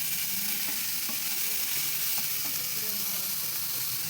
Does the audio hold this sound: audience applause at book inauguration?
no